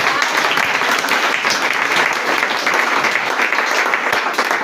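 A church congregation applauding steadily, a dense, loud wash of clapping that holds throughout without pause.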